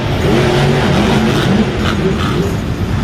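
The Fire Max D monster truck's engine revs loud and steady at a Monster Jam show in the Alamodome, with a dense, continuous roar throughout.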